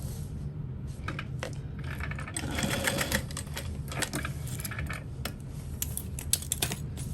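A sewing machine bastes fabric over a zipper panel, its running mechanism chattering in busy clicks with a slightly louder burst partway through, close and steady with no talk.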